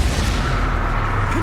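Spell explosions from Confringo and Bombarda in a wizarding video game, a loud sustained low rumbling boom with a rising tonal whoosh near the end, no voices.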